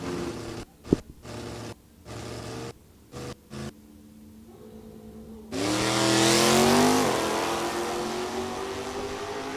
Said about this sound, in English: RPM's up, sidestep the clutch, hang on, front end up, front end down, car moves to the left.